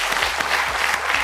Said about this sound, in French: On va vous demander de nous applaudir une dernière fois.